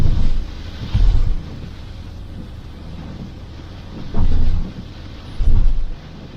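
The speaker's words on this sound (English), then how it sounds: "it's still raining. It's piddling it down." Steady rain hiss at dawn at a Scottish campsite, with low wind rumble, broken by a few heavier gusty bursts buffeting the microphone; no voices.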